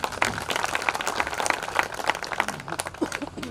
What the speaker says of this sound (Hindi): तो मैं एक बार चाहता हूं हमारे गुरु जी कमलेश मौर्य मृदु जी के लिए आप लोग तालियां बजा दीजिए।